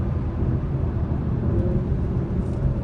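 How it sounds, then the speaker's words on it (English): A 2021 Acura Type S braking hard and downshifting at night, heard from inside as a dense, steady low rumble of engine and exhaust with road noise, close and constant for three seconds, no talking. "Brakes hard, it downshifts,"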